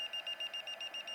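LiPo battery alarm sounding for overcharged cells: rapid, evenly spaced high-pitched electronic beeps, about eight pulses in quick succession, quiet and alone.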